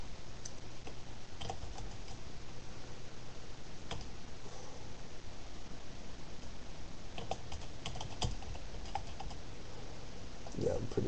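Keys on a computer keyboard are typed while saving files for modding Oblivion on Windows Vista, a steady run of close, quiet clicks under a constant background hum with a few louder taps.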